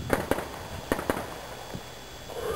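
Gunshots crack at a Steel Challenge shooting match outdoors: four sharp reports in two quick pairs, fairly near and loud, followed by a fainter distant shot over a low ambient bed, with no talk.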